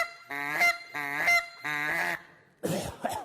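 A hunting call imitates a Canada goose with three loud, nasal honks in a row, each held for about half a second, followed by a rougher, breathier blast.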